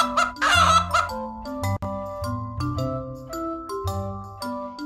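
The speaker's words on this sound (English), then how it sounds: "Chicken, chicken." Clucking and crowing chicken calls open over a children's nursery-rhyme tune, loud and close, then give way to the steady synthesized melody and bass.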